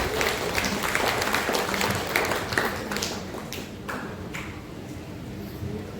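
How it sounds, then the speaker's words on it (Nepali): A seated audience at a motivational success talk breaks into applause, a dense burst of clapping that fades and thins toward the end. "उहाँलाई एकचोटि तालीले सम्मान गरिदिनु।"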